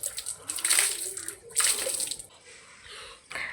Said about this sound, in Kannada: ಹೊರಗಡೆ ಎಲ್ಲ ಗುಡಿಸಿ ನೀರು ಹಾಕಿ ಮತ್ತು ರಂಗೋಲಿ ಹಾಕ್ತೆ.